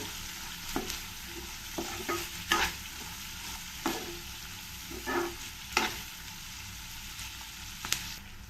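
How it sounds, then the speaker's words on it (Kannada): Capsicum and onion fry in a pan with a quiet, continuous sizzle, marked by repeated short scrapes and clinks as a spoon stirs them at an uneven rhythm. "ಕ್ಯಾಪ್ಸಿಕಮ್ ಮತ್ತು ಈರುಳ್ಳಿ ಎರಡೂ ಸ್ವಲ್ಪ ಫ್ರೈ ಆಗಬೇಕು ಒಂದು ಟೂ ಮಿನಿಟ್ಸ್ ಸ್ವಲ್ಪ ಫ್ರೈ ಆಗೋವರೆಗೂ ಇದನ್ನು ಚೆನ್ನಾಗಿ ಫ್ರೈ ಆಡಿಸ್ಕೋಬೇಕು"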